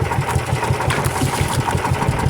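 Engine of a service boat running steadily nearby, a loud rapid chugging pulse with a mechanical rattle and no voices.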